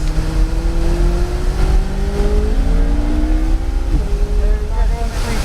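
A car engine revs hard at launch, its loud, close roar climbing steadily in pitch over several seconds, with faint voices underneath.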